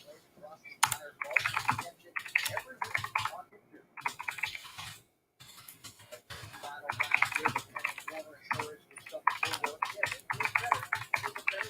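Fast bursts of typing on a Mac computer keyboard, close and crisp, with brief pauses between runs of clicks, while voices talk over them.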